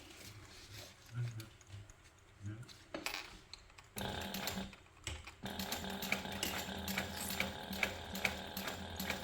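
A sewing machine runs a basting stitch along the long edge of a pocket gusset for a crossbody and waist bag, starting up partway through and running in a steady close mechanical whir after quieter handling sounds.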